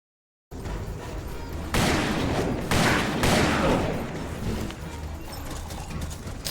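Galloping horses pound along in Call of Juarez during a stagecoach chase across the prairie, continuous hoofbeats broken by several loud bursts of rapid gunfire.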